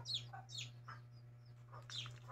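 Newly hatched chicks beside a mother hen give a few high, thin peeps in short scattered bursts over a steady low hum, fairly close.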